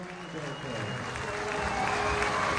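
Applause from the stands at a rugby league match between St Helens and Salford as the players acknowledge the crowd, a steady wash of distant clapping under a commentator's voice.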